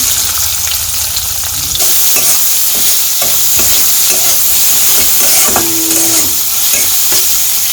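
Chopped onion sizzles loudly in a hot pan, with scraping and clinking of a spatula as it is stirred throughout.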